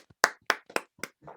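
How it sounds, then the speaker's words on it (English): Hand claps sound in a short sparse burst of about five sharp, close claps, unevenly spaced, with no talking, celebrating a player's first natural 20 roll during a tabletop role-playing game session. "Can we give an applause to Tarkus for his first natty 20"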